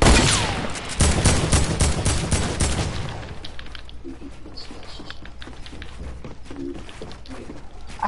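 Rapid gunfire rattles in a fast shooter video game, loud and dense for the first three seconds and then easing into scattered fainter shots and clatter while players talk over it.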